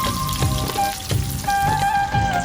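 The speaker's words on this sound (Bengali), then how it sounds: "মাছ ভাজতেছি" Fish fries in a pan alongside a rainy-day meal of egg fry and khichuri, a steady close crackling sizzle with small popping bursts running throughout, no voices.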